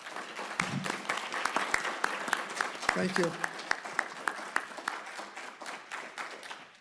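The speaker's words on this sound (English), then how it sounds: "Will everybody please join me in a round of applause for our candidates tonight?" An audience at a county assessor candidates forum gives a round of applause, a moderate steady patter of claps under a brief spoken thanks.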